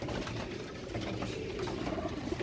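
Pigeons, including Teddy-type birds, cooing softly in a coop amid steady background noise, with faint fluttering and no clear talk.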